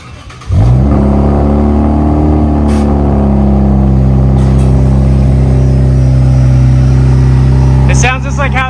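Lexus IS fitted with PPE headers revving: a loud, close engine note that climbs quickly, holds a raspy sustained drone for several seconds, then eases off as a voice comes in at the end.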